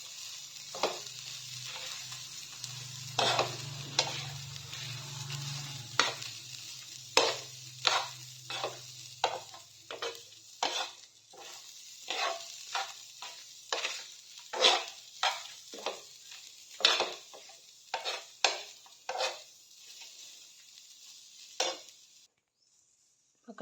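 Food fries in a pan with a soft sizzle while a utensil stirs and scrapes, giving repeated sharp clinks and scrapes at an irregular pace, close by and with no talking.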